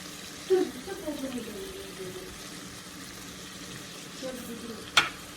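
Soft sizzling of seasoned meat frying in a pan for plov, with a few scraping stirs and a sharp clink near the end.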